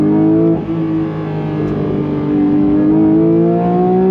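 A 2022 Porsche 911 GT3 engine pulls hard in second gear toward 9,000 RPM, a loud, steady rising wail with climbing harmonics, close and continuous with a brief dip early on.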